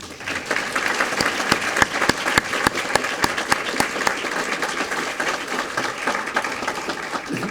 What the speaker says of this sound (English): I'd like you all to honor that by giving her a round of applause